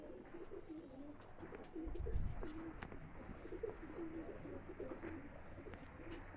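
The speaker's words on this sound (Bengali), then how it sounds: "তো বন্ধুরা এটা মাদি পায়রা" Soft, repeated cooing from a female pigeon of a Madrasi breed, low rhythmic phrases heard close against light background noise, with no talking.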